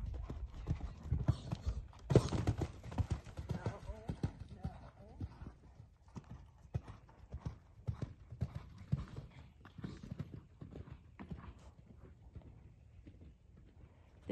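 An Irish sport horse mare's hooves thud in a steady, continuous rhythm on a cross-country schooling course in Aiken, recorded faintly at a distance with wind and soft background noise throughout.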